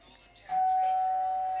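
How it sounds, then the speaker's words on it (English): A doorbell chimes once with a clear, sustained ring over a quiet room, with faint voices and movement around it. "Oh, hang on, I've got the doorbell."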